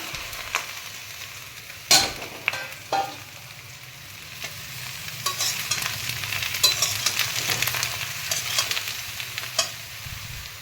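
Taro leaves fry with browned garlic in a pan. A constant sizzle runs under sharp clatters and scrapes from stirring, with no talk.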